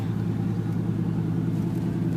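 A car driving along a dirt road near Fluted Rock and Sawmill, Arizona, giving a steady, close engine rumble with a constant low drone and no voices.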